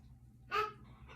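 A dog lets out a single short whimper indoors, a brief thin whine that rises over quiet room tone and fades within a fraction of a second.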